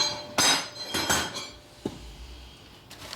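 A metal file biting into a 1971-76 Harley XL Sportster Ironhead cam cover being cut down, a few sharp scraping strokes with short pauses between them, close and fairly quiet.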